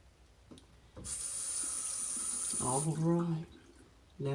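A bathroom faucet runs steadily for about two seconds as water is drawn for rinsing during a wet shave with a WCS 84b safety razor, followed by splashing and rinsing sounds, with no speech.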